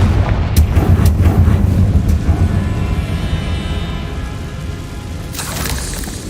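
A loud Confringo fire-spell blast in Hogwarts Legacy, a booming explosion with sharp cracks early on that rolls into a long rumbling decay, ending with a fresh crackling burst.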